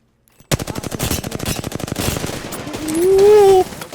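Automatic weapon fire in Apex Legends, a rapid burst of closely spaced shots starting abruptly and rattling for about two seconds, followed by a rising whine of game effects, loud and close.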